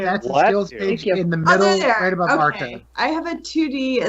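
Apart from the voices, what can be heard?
No distinct noise like a dog, phone or traffic.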